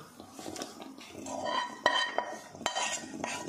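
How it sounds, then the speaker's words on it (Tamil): Ginger, garlic, chili powder and garam masala paste stirred in a pan, with a spoon scraping and clinking against the metal in short, close, irregular strokes, alone without talk. "இதை அப்படியே கலந்து விட்டுக்கலாம்."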